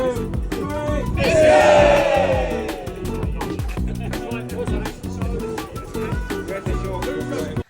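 A group of runners at a track session shouting a cheer together on a three count, one loud collective yell swelling and fading over a couple of seconds amid clattering and scattered voices.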